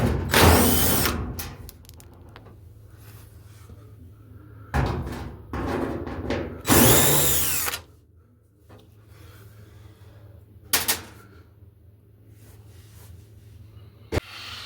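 A power drill backs screws out of a washing machine's rear panel. It gives several loud, short whirring bursts with quiet gaps and a few sharp clicks between them.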